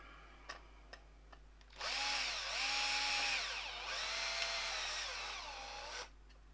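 A power drill cuts a large hole for a DC socket in a power supply case, whining loudly for about four seconds with pitch dips as the bit bites. A few light taps come before it, and the room goes quiet afterward.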